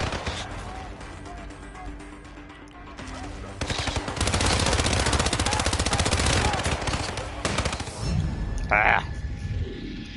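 Sustained automatic gunfire in Hitman 2, a dense roaring burst that swells and holds loud for several seconds before breaking off, with a player's voice talking over the game action.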